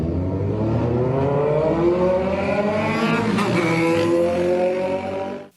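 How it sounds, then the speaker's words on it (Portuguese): Motorcycles with loud popping, backfiring exhaust pipes on a residential street, a steady close roar with rising revs and one sharp crack near the middle, cutting off at the end. "Além de motos com o cano escape estourando"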